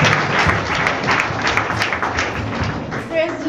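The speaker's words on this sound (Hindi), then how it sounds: "प्रेज द लॉर्ड, ताली बजा" A church congregation claps along in a lively, uneven burst, with heavy thumps and taps mixed in and voices sounding underneath, near and fairly loud throughout.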